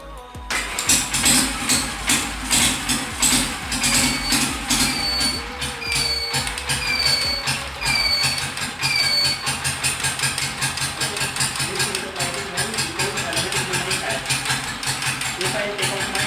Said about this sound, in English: you can see now I can start my bike.